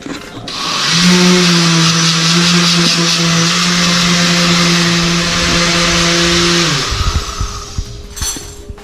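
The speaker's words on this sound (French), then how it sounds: "Maintenant, on va mettre ça dans le mixeur" A kitchen blender purees hot cooked apples for a citrus-caramel tarte Tatin, a loud steady motor whine with a rising pitch that runs about six seconds before cutting off, followed by faint handling clatter.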